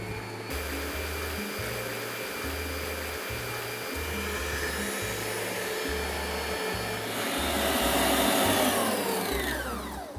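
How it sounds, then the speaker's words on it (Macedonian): An electric hand mixer whips egg whites into foam in a deep bowl, a steady loud motor whir running the full length with a rising pitch sweep near the end, no talking over it. "белките ќе ги ставам во еден длабок сад и со миксер полека ќе ги изматам да направам убав и здрав шам"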